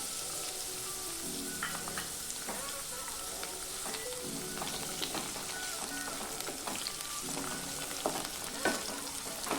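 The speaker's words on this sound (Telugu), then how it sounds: "పోపు దినుసులు కాస్త వేగాక ఇందులోకి ఉల్లిగడ్డ చీలికలు వేసుకుంటున్నాను" Sliced onions fry in hot oil already seasoned with tempering spices, giving a steady, dense sizzle with occasional stirring clinks and pops, close and continuous, no talking.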